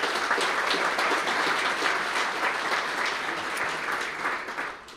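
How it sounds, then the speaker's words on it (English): An audience at a mayoral state of the city address in Elmhurst claps for city employees, a dense, sustained round of applause that holds steady and tapers off at the end. "one more round of our applause for our employees"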